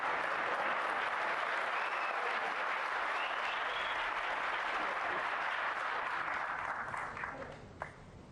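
Crowd at the Saudi Arabia Masters 2024 snooker final applauds a brilliant shot, sustained dense clapping that holds steady and then thins out toward the end.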